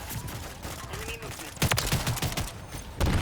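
Riveter shotgun fire in a Call of Duty: Modern Warfare III Ground War match, with several sharp close blasts in an irregular rhythm amid other battlefield gunfire and rumble, mixed with faint voice chatter.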